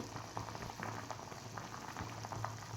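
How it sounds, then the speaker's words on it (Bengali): Vegetables being parboiled in a pot of water before going into khichuri, a faint steady bubbling and soft popping with a low hum underneath, no voices. "সবজিগুলোকে আমি কিন্তু রান্না করার আগে এভাবে করে ফুটিয়ে নিচ্ছি"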